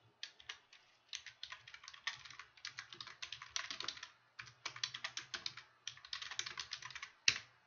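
Typing a text message on a computer keyboard: close, crisp key clacks in rapid runs separated by brief pauses, steady and alone in a quiet room, ending with a sharper key press.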